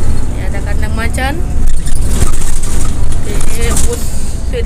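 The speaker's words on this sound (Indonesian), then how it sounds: "Bus Sweet Class-nya lagi ngebut tuh" Sinar Jaya Suite Class sleeper bus speeding, its engine and road roar loud and constant from inside the cabin, with people talking over it.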